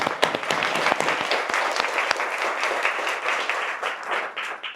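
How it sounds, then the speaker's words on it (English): An audience at a ladies' tea event breaks into dense applause, many hands clapping steadily and fairly loudly throughout, with no one speaking over it. "Please give them a round of applause."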